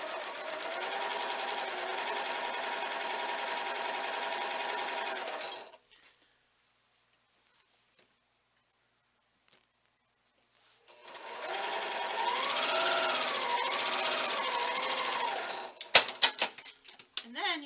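A sewing machine chain-pieces quilt block pieces with a steady, close mechanical whir. It runs for several seconds, stops into near silence, then starts again, and a few sharp clicks and taps follow at the end.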